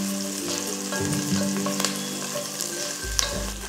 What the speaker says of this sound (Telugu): ఉల్లిపాయలు 1 నిమిషం వేగిన తర్వాత 3-4 పచ్చిమిర్చి పొడవుగా కట్ చేసుకొని వేసుకోవాలి